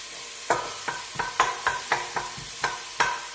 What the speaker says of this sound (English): We get all the onion and garlic covered in the rapeseed oil.